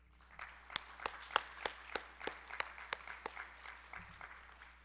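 Light audience clapping in a conference hall during a disability caucus gathering, about a dozen distinct claps spaced over a soft background murmur, moderately distant and not very loud.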